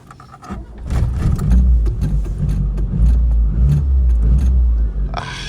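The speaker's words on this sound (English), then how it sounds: "Gotta love a Maestro, starts on the button." An Austin Maestro's engine catches on the first try and settles into a loud, close, steady running note that fades slightly near the end, with no one speaking.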